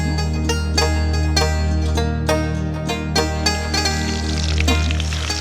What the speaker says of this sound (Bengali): ফেলন ডালটা দেবো এবার আমরা